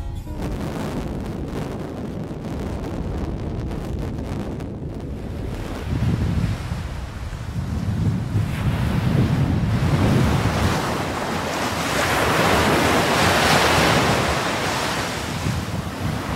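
Steady wind roars over the microphone at a harbour in northern Denmark while waves surge and break, growing louder in the second half with no voices present.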